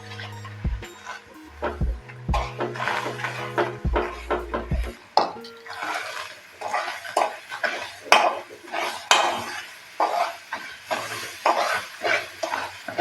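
Gram flour and milk poured into sugar and stirred in a pan, with low thumps early and then continuous scraping and clinking of a utensil against the metal, close and fairly quiet.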